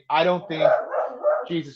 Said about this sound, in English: Look, sorry, that's my dog.